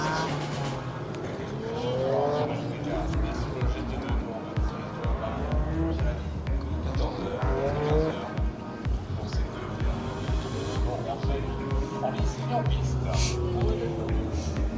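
Cars race at a GT World Challenge event, including a Maserati, with engines revving and passing amid tire noise and general track din, while people talk over it throughout.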